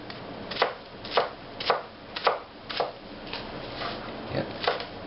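A knife chops onion on a cutting board for guacamole, with about eight sharp, evenly spaced chops close by that grow softer toward the end.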